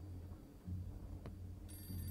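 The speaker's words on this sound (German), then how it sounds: "Es ist nur das Telefon, was klingelt." A telephone rings faintly indoors, a short electronic chirp sounding in the background over a steady low hum, with no one talking.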